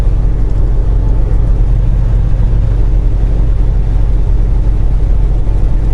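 A semi truck engine idles in the cold, its loud, dense, unchanging low rumble filling the whole span with no breaks.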